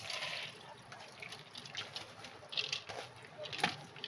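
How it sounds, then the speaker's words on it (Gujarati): Water drains off soaked lentils being readied for grinding into dal vada batter, a soft close trickling and dripping with scattered brighter splashes, fairly faint and uneven. "આ રીતે દાળમાંથી બધું પાણી કાઢી લેવાનું છે."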